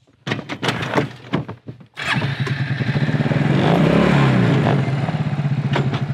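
A Suzuki KingQuad ATV engine revs loudly and steadily while spreading manure on a farm, following a few sharp knocks and clunks; the motor holds a strong, continuous drone close by.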